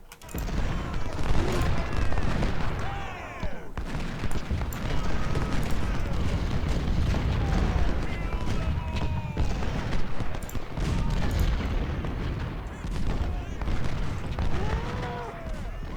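Artillery booms and musket volleys roll continuously across an American Civil War battlefield in Ultimate General: Civil War, a dense, loud barrage of overlapping blasts with voices and shouts mixed in throughout.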